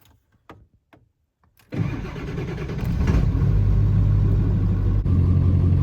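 A Ford 7.3 diesel truck engine cranking to life on a cold morning after a few faint clicks, then settling into a loud, steady idle that builds slightly.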